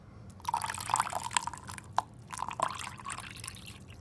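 Cold water is poured into a cup for a peach mango G Fuel drink: close, quiet trickling and splashing with small drips and glugs as the cup fills.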